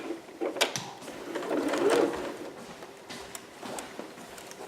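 A sewing machine basting stitches along a dress bodice whirs quietly with a soft, rapid mechanical rattle, rising slightly mid-clip, with light handling clicks and bumps around it.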